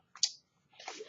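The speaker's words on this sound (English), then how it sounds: "So just bear with me while I shuffle the cards." Tarot cards being shuffled by hand: a quick papery riffle, then a longer softer shuffling burst a moment later, close and fairly quiet, with no talking.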